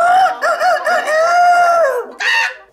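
A rooster crows as a morning sound effect in a stage production of a play, one long, loud, drawn-out cock-a-doodle-doo followed by a shorter second call, heard alone and close.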